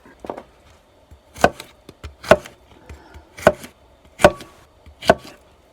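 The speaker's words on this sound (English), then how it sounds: "chop up the okra and put it in" Fresh okra chopped on a board for gumbo, a few light taps followed by five evenly spaced heavy knife chops, close and loud with quiet gaps between strikes.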